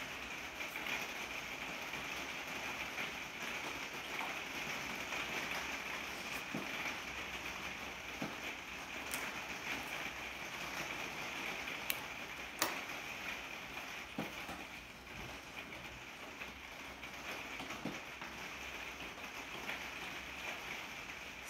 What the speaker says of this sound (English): Yep, raining again.